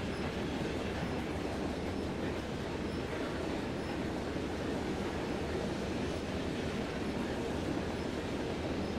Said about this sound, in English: But my sounds work. They make the train sound so realistic,